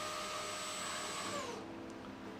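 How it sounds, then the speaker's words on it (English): The part cooling fan of a Prusa XL 3D printer runs at full speed, a steady whirring hum with a high whine that drops in pitch partway through, fairly quiet and alone. "This is just the part fan at max."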